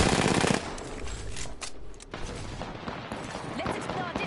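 Rapid automatic gunfire from a PS4 shooter rattles in a dense burst at the start, then continues in scattered shots and bursts with battle noise and a voice talking over it.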